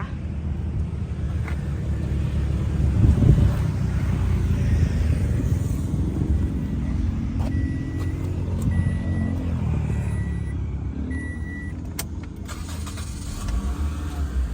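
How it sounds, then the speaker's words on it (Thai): A 2011 Toyota Corolla Altis 1.8E sedan's engine idles after starting, a soft steady hum that swells briefly early on and settles, with a few faint clicks and knocks near the end. "เราไปสตาร์ทเครื่องยนต์แล้วก็กลับมาดูห้องเครื่องกันอีกครั้งหนึ่งนะคะ"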